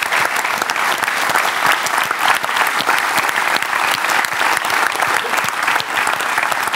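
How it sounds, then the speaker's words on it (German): Studio audience applause on a German talk show, a dense, steady wash of many hands clapping throughout at close, even loudness with no talk over it. "Applaus."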